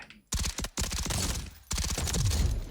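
Automatic gunfire from a new rifle in the Delta Force video game, shot at a target 100 m away: three sustained bursts of rapid, close, loud shots separated by short pauses.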